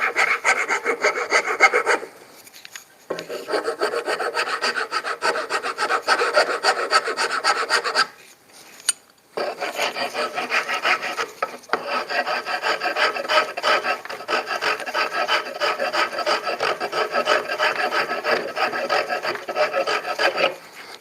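Steady rasping of sandpaper worked back and forth over a new wooden handle for an antique axe, close and continuous with two short pauses, no talking.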